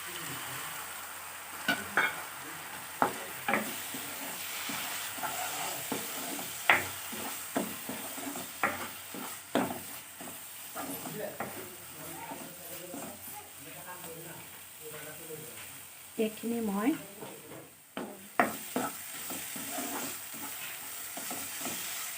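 Sesame seeds sizzle frying with repeated scraping strokes of stirring in a pan, steady hiss underneath and sharper clacks now and then; faint voices occasionally.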